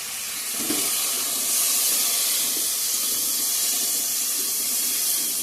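Turmeric and spices fry with raw green banana in a pan, giving a steady, soft sizzling hiss that holds evenly throughout, fairly faint and heard alone.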